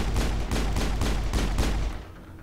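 Gunfire from the Mass Effect video game, a run of about eight evenly spaced heavy shots, loud and booming, that stops abruptly before a brief quieter tail.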